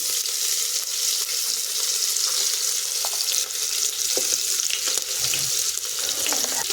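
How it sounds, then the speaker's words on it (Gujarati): Green garlic and finely chopped green chillies sizzle steadily in a hot pan, a continuous close frying hiss with occasional scraping stirs and no talk. "તો બધું જ આપણે અહીંયા સારી રીતે સાતરી લીધું છે"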